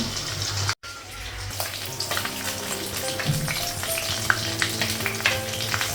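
Fish fries in hot oil with a loud, dense sizzle and crackle close by, broken once by a brief cut and joined by occasional clinks and scrapes.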